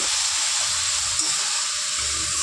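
A little water poured into spice paste and onions frying in a pan for a cauliflower and rohu fish curry, giving a steady steam hiss and soft sizzle that runs close and alone.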